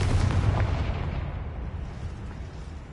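Confringo fire spell blasting in the video game Hogwarts Legacy, a dense, loud explosive rumble with deep booming low end that stays sustained over three seconds, gradually easing off, with no talking.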